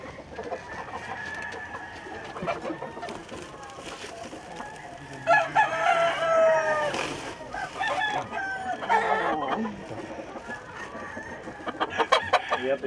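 Seized fighting roosters from an illegal cockfighting bust, some still wearing leg tape, crow and cluck together in a restless chorus. Several birds call close by, with bursts that rise and overlap across the whole stretch.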